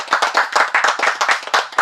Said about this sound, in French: j'aimerais que tous ensemble, on applaudisse pour le lycée bilingue et le lycée classique